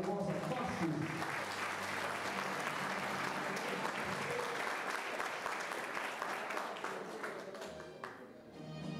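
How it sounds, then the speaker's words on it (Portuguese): A crowd at a sports memorial ceremony applauds a swimmer who won the 200-metre breaststroke. The clapping is steady and sustained from start to finish and fades slightly near the end, with some faint voices beneath it. "Uma salva de palmas a Marcos Barbosa Vasquez."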